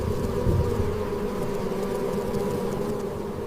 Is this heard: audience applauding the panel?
no